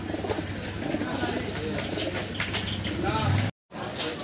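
Fancy pigeons kept for sale coo repeatedly in low throaty rolls while someone talks over them, ending in a brief cut of silence.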